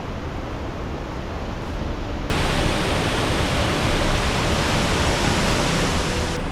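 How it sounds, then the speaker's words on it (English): Reynolds Falls, the last waterfall on the Ricketts Glen section of the Falls Trail, rushes in a steady broadband roar that jumps abruptly louder partway through as the sound comes closer, with no voices over it. "we have arrived here at the last waterfall along the Ricketts Glen section of the Falls Trail"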